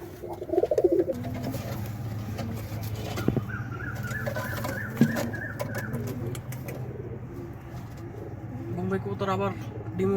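Bombay pigeons coo in a loft at close range, a few soft throaty calls rising over a steady low hum, with brief wing flaps and handling noises, while someone talks through much of it.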